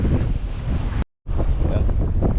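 Strong wind buffets the microphone at a fishing spot by the water, a steady roar that drops out briefly partway through and then returns, with a voice faintly underneath.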